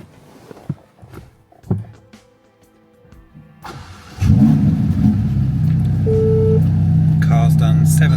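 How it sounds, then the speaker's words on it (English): A 2021 Ferrari Roma 3.8 V8 twin-turbo coupe with an F1 dual-clutch gearbox cranks and fires, then settles into a loud, steady idle with a brief rev, after quieter handling noises. "Let me start the car up."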